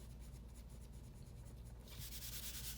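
Pencil rubbing dark shading onto paper while drawing a maple leaf, a soft, steady scratchy hiss that grows a little louder and brighter near the end, close and faint, with no voices.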